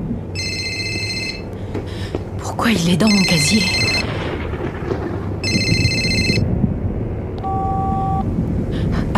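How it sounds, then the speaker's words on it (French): A mobile phone rings inside a school locker, repeated electronic ringtone bursts sounding in bursts with gaps between them, over a dark rumbling ambience while people talk in between. "c'est son téléphone"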